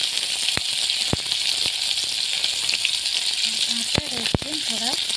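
Bay leaves fry in hot oil with a steady, close sizzle throughout, broken by a few sharp clinks of a utensil against the pan; a person's voice comes in briefly near the end.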